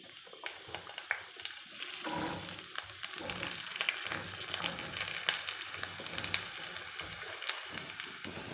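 Turkey berries fry in hot oil with a steady crackling sizzle and scattered sharp pops, close and continuous, with occasional stirring scrapes and no talk.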